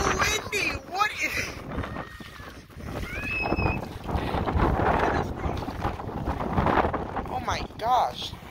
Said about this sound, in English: Dude, it is so windy.